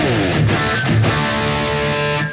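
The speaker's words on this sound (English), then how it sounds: "this is the reverb, which I have under foot switch 3, and that's a plate reverb" An electric guitar plays through a foot-switched plate reverb effect, sustained ringing chords with a smooth, lingering tail and no talking.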